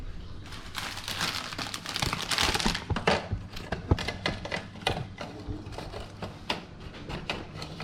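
Scotch finger biscuits being crushed for a cheesecake base, giving a run of dry crunching and crinkling bursts close by, denser at first and then settling into sharper intermittent cracks, with no talk.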